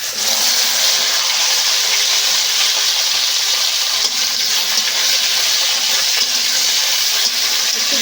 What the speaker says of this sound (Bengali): তেল গরম হয়ে গেছে। ভেন্ডিগুলো এখন ভেজে নেব।